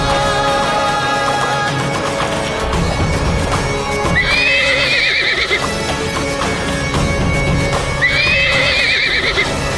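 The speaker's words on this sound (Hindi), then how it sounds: "पागल घोड़ा यहाँ क्या कर रहा है?" A horse neighs twice in loud, shrill whinnies over continuous hoof clip-clops and busy dramatic background sound, all close and steady throughout.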